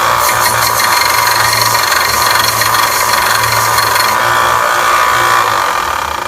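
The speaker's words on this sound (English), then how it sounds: "We're going to go to the sanders." A cast metal medallion pressed against a power sander in a sand-casting shop, giving a steady, loud abrasive whir and grinding rasp that holds unbroken from start to finish with no voices.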